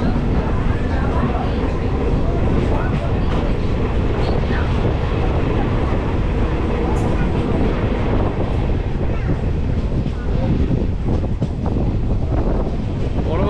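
A crowded passenger train runs from Ramnagar toward Digha, giving a loud, continuous rumble mixed with heavy wind buffeting the microphone, with no clear speech above the din.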